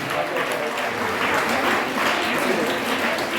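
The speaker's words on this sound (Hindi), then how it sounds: "तालियों को विराम नहीं देना है," A crowd at a village gathering in Khatkar keeps up continuous applause, a steady, moderately loud rush of clapping with voices mixed in underneath.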